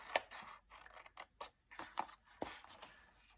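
Scissors snip through card while a pop-up gift card box is being made, giving a series of close, quiet, crisp cuts and small rustles with no voices.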